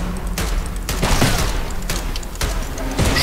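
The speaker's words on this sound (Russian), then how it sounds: "Что это за пушка такая дебильная?" Heavy cannon fire in the Choo-Choo Charles video game, a loud near stream of booming blasts with repeated sharp bursts about every second over a constant rumbling backdrop.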